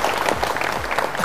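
Studio applause at a Bible quiz show, greeting a contestant's correct answer: a short, steady patter of many hands clapping at moderate level with a faint murmur beneath.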